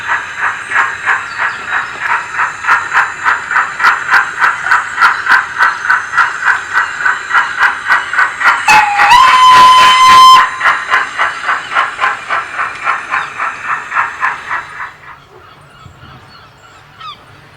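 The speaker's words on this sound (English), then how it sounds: "At 6 o'clock, the train departs with goods and empties for King's Lynn" A model steam goods train carrying loaded wagons and empties pulls away with a steady rhythmic chuffing that slows and fades, and a shrill whistle blows midway. It is loud and close, with no voices.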